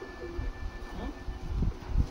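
Teddy and Kamagar pigeons kept for sale in Kolkata give a few low, throaty coos close by, in short repeated bursts.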